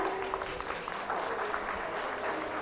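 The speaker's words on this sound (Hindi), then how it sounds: "जोरदार तालियां" Studio audience on a quiz show gives hearty applause, a continuous crackle of many hands clapping at moderate level, with faint voices beneath.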